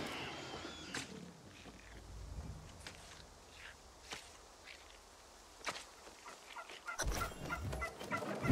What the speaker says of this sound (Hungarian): Mit akarsz, pulyka?